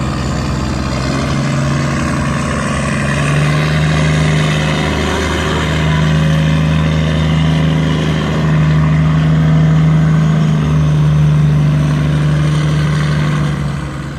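Loud, steady boat engine roar from tugboats towing barges on the Chao Phraya River, a deep rumbling drone that holds throughout and swells slightly in the middle, no voices.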